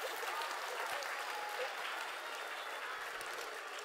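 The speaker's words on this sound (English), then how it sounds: "can everybody please give Miller a very big clap?" A young audience of children claps steadily and evenly at a festival talk, a dense wash of applause holding level throughout with no voices over it.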